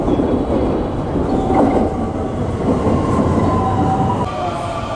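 A commuter train pulling into Hyogo Station in Japan, a loud steady rumble of wheels and carriages with faint squealing tones and clatter throughout.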